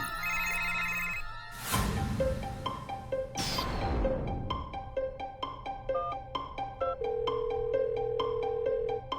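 A telephone rings unanswered, its repeated electronic tones pulsing in a steady pattern, with a couple of loud crashing hits near the start and a sustained tone toward the end.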